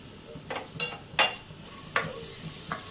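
Chopped tomato is added to hot sizzling spices in a pan and stirred, giving several sharp scraping clinks against a steady soft sizzle.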